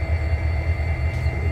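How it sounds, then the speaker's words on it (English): A Norfolk Southern freight train slowly shoving a five-unit articulated container car set into a rail yard, with a steady, loud, low diesel rumble and rolling drone throughout. "take their articulated 5-unit set and just back right into"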